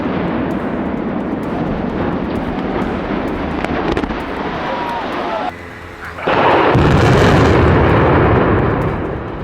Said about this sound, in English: the moment a massive crane collapsed during a planned demolition